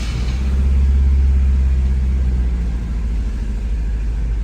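A Honda CRX HF engine idling roughly and pulling away, a loud steady low rumble close up with no talk.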